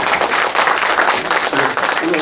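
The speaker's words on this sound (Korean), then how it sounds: "그럼 박수 부탁드리겠습니다." At the launch ceremony of a citizens' coalition in Sangju, a gathering claps loudly and continuously, with voices audible amid the applause.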